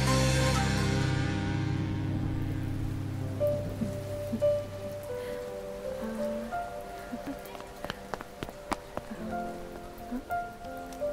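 Steady rain falling outdoors, a dense continuous hiss with scattered sharper drips and spatters, loud at first and easing to a lighter patter; faint voices mix in beneath it.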